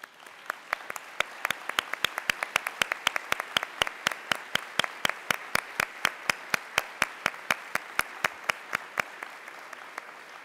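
Audience at a summit reception applauding ambassadors as they stand, steady clapping from a modest crowd with a few loud, sharp claps close by, lasting about ten seconds.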